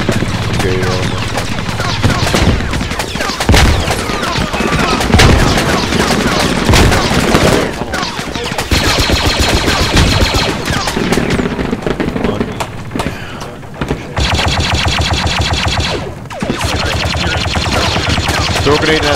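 Heavy weapon fire from an HMP in the sci-fi shooter Galactic Contention rattles in sustained loud bursts amid booms and other gunfire, with brief pauses between volleys.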